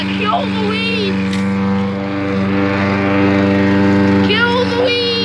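A loud lawn mower engine drones steadily while cutting weeds in a home garden, with shouting voices over it throughout.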